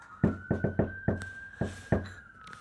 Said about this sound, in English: I'm going to knock on that door